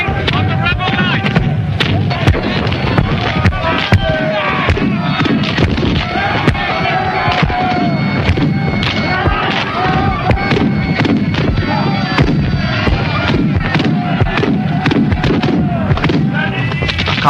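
Dense, continuous booming and cracking of heavy gunfire from 3-pound cast-iron cannon at a Battle of Culloden reenactment, scattered sharp blasts over a steady roar, loud and sustained throughout, with voices mixed in.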